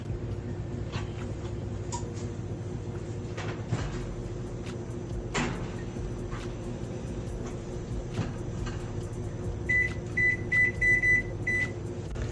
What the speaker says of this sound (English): So let's go ahead and put it into the oven.